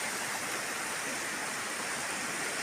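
A river in spate rushes beneath overhanging trees in stormy weather, a dense, steady roar of fast water that fills the scene without a break.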